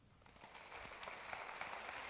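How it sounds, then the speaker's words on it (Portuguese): A church congregation claps in praise, a dense wash of applause that starts moderately and builds louder over about two seconds, with no voices over it. "Você pode aplaudir o Senhor?"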